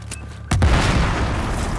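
A large in-game explosion in Battlefield 4 erupts suddenly with a loud, deep boom, then a sustained rumbling roar and debris wash that stays heavy to the end, with no talk over it.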